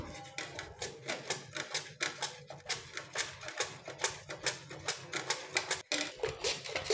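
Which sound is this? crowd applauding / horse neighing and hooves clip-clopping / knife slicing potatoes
knife slicing potatoes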